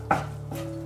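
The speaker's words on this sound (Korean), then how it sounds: "툭툭 잘라줍니다" A knife cuts through a chilled hard-boiled egg for kimchi gimbap, giving two crisp, close taps about half a second apart with no talk.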